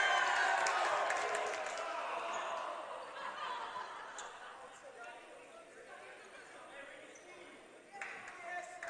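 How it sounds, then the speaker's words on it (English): At a junior varsity basketball game, a gym crowd cheers when the power comes back on. The cheer is loud at first, then fades into scattered chatter and laughter while a commentator talks. "there was a bit of a cheer when the power came on in the building"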